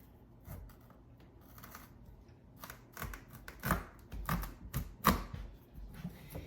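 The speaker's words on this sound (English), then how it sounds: "So I'm just gonna stab my knife in here." A knife stabs into and cuts through a tough spaghetti squash, a series of close, sharp crunching and cracking bursts that grow denser partway through, with no talking.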